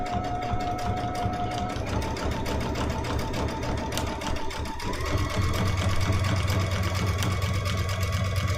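Sewing machine running steadily while stitching along a quilt stripe on a Christmas ornament trivet quilt with raw-edge appliqué, a continuous close mechanical whir with rhythmic needle clatter that picks up speed partway through.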